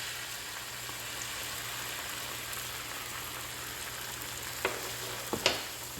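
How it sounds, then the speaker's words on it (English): Eggs frying in oil in a pan on medium-high heat for vegetarian fried rice, a steady soft sizzle throughout with a few brief clinks near the end. "Now I still have oil in the pan right here, so this is where I'm gonna cook our eggs."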